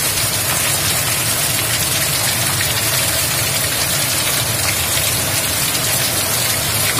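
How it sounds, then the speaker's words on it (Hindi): Heavy rain pours down in a dense, unbroken roar, loud and close, with a steady low rumble underneath and no voices. "बहुत जबरदस्त बारिश है भैया"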